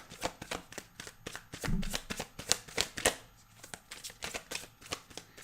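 Tarot cards are shuffled by hand in a long run of close, crisp riffling and slapping strokes in an irregular rhythm, with no voices.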